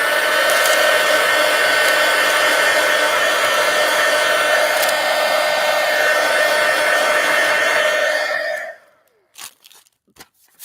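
Steady, loud hair dryer whir drying a mixed media collage, running continuously for about eight seconds before switching off, followed by a few faint handling sounds.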